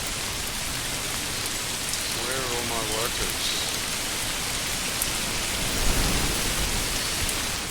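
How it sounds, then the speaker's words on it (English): Steady rain hisses across the whole stretch in the medieval city-building game Manor Lords, a dense, even wash of falling water with a player speaking briefly over it. "I can't hear because of the rain."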